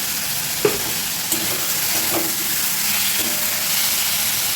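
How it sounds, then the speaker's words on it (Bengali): Tomato paste fries in a pan with a loud, steady sizzle and hiss, punctuated by a few soft knocks and scrapes as a utensil stirs it. "টমেটো বাটা দিয়ে দিচ্ছি"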